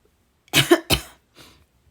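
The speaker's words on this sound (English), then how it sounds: "I still have this little cough." A single close cough, two quick harsh bursts followed by a fainter trailing one, then quiet.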